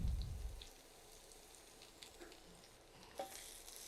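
Chopped onions with finely cut large garlic cloves sizzle faintly in a pan of oil, a soft steady crackle after a brief louder burst at the start, with a light clink near the end.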